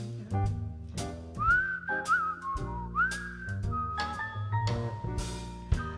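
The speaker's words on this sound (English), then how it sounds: "I'd whistle a little tune" A whistled melody weaves over a band's playing, slow bending notes rising and falling through a short tune, clear and fairly close, with no talking.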